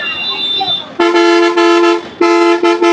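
Car horns honk loudly in heavy road traffic between RK Beach and Thotlakonda in Visakhapatnam: one long sustained blast, then a shorter one, then quick toots, over a steady traffic rumble with voices in the background.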